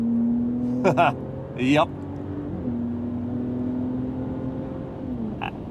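A 2025 Ram RHO's Turbo i6 revs in sport mode, a steady droning engine tone that rises and settles. Someone speaks briefly over it near the start.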